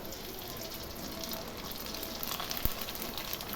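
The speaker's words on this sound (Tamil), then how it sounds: "எண்ணெய் காஞ்சிடுச்சு. வத்தல் போட்டு பொரிச்சிக்கலாம்." Sun-dried vathal crisps dropped into hot oil for a Tamil summer snack, giving a continuous close frying hiss with one brief knock near the end, and no voice.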